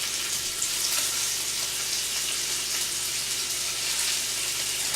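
Seafood fries in a hot pan with a loud, dense, continuous sizzle that holds steady and close throughout.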